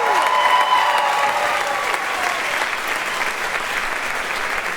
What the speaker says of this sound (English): Our amazing choir, give them another round of applause